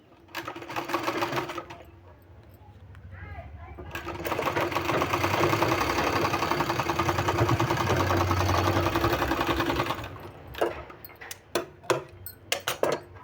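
A sewing machine runs in a steady, sustained stitching burst as it joins narrow one-inch fabric strips for a sleeve design, with a start-up stretch and scattered clicks and handling noises at the end.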